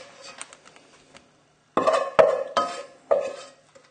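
Cooked potato dropped into a mixing bowl for spicy salmon fish cakes, giving a few close, soft thuds and clatters against the bowl in quick succession after a quiet start.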